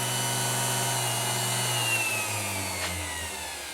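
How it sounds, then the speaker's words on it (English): A small electric chain grinder sharpens a chainsaw chain, giving a steady close motor whine with a faint grinding edge that holds throughout with no talking. "That's how I use my little electric chain grinder"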